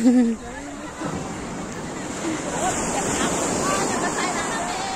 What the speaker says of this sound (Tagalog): Ang lakas ng alon, no?